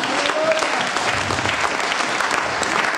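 A church congregation at a thanksgiving service bursts into sustained, loud applause for Jesus, dense clapping filling the room throughout with faint voices mixed in.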